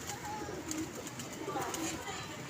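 Pigeons coo softly in the background at a pigeon club, with low bubbling calls repeating over a steady outdoor hum and faint voices.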